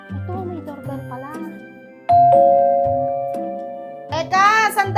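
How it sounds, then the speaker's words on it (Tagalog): A house doorbell rings with sustained electronic chime tones, loud and close, followed by a brief bright jingle at the end. "Ay, ito, may doorbell pala."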